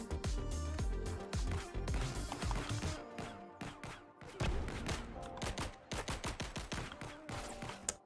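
Rapid bursts of enemy gunfire in a video game, sharp repeated shots in clusters with brief gaps, fairly loud and close, with some talk beneath.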